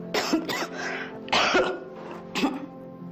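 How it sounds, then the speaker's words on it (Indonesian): Light coughs from a mother feeling unwell, heard in three short broadband bursts spaced about a second apart, close and fairly loud, with no talking. "Hanya batuk ringan."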